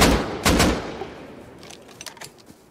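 A short burst of AK rifle fire in the game Rust, loud and close at the start, followed by scattered fainter shots trailing off into the distance.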